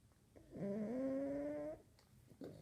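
Loud, heavy breathing or snore-like rasp close to the mic: one long harmonic drawn-out sound lasting about a second, followed by quieter breathy noise and the start of another.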